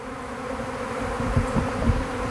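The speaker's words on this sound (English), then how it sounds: "this looks like it's the hive that this current swarm is coming out of as well" A swarm of honeybees pours out of a hive, a dense continuous buzzing drone close to the microphone, swelling slightly with a few louder passes toward the end.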